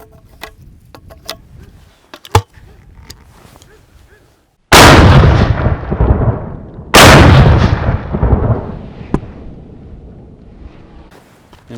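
A Beretta 686 over-under shotgun fires two loud, close blasts a couple of seconds apart, each with a long rolling echo. Softer clicks and handling noises come before them.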